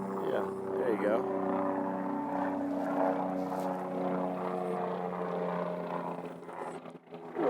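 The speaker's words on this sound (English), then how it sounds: "we're going to have a helicopter literally roll right over us" A helicopter passing low overhead on the road, a steady droning rotor and engine hum that swells and fades over several seconds while people talk beneath it.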